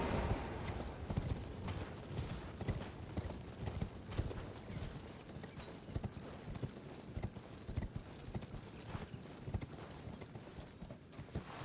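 Hooves of a horse in the video game Elden Ring clip-clop in a quick, steady galloping rhythm throughout, close and moderately loud, with no voices.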